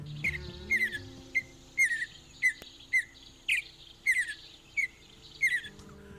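A mountain bluebird's song, Nevada's state bird: about a dozen short, clear chirping notes in an even, unhurried series, fairly close and alone over a quiet background.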